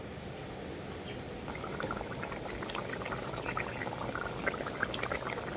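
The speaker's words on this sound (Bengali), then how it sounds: "ঝোলটা খুব ভালোভাবে ফুটে গেছে" Curry gravy bubbles at a rolling boil in a pot, giving close, soft liquid burbles and pops over a steady hiss that grows slightly louder partway through, with no talking.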